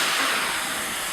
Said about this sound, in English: we're going to add a little bit of wine